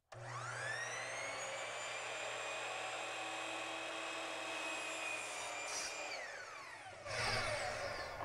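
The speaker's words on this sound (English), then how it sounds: "holding the trim down and firm, and I want to make the cut" Saw cutting baseboard trim: a high whining motor spins up, holds a steady loud drone through the cut, then winds down with a brief rougher burst at the end, close by and without talk.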